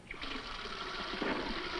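Water runs steadily from a defective faucet, a continuous hissing splash at moderate level with no voices.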